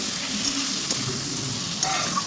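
Ground spice paste of green chillies and cumin going into a hot oiled pan for a potato and pointed gourd fish curry, giving a steady close sizzle with a few soft stirring scrapes, no talk.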